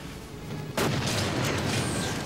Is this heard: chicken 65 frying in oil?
no